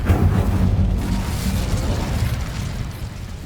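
The Incendio fire spell in Hogwarts Legacy, a loud fiery burst with a deep rumbling whoosh that slowly fades over a few seconds.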